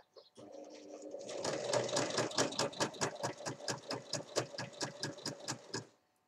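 Sewing machine running steadily as it stitches around the edge of a beach towel, a rapid even chatter of needle strokes lasting several seconds, close and clear with no talking.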